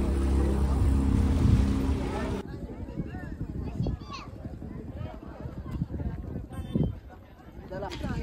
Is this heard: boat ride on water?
yes